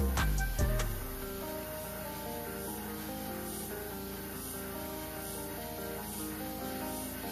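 An airbrush sprays orange paint over the back and shoulders of a copper crankbait fishing lure, a faint steady hiss held continuously after a few brief knocks at the start.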